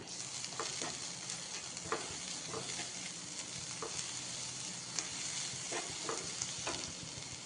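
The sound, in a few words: grated coconut and sugar being stirred and roasted in a pan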